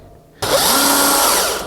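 A power drill bores a hole through the wall of a homemade paint booth box. One loud, steady, high whine starts abruptly and holds close up with no talking.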